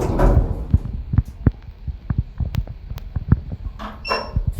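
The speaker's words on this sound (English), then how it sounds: "Doors closing." The doors of a 2014 lift rated for 13 persons and 1,000 kg, at Sovereign Harbour Retail Park in Eastbourne, close nearby with a series of close, irregular thumps and knocks, ending in a brief sliding rattle.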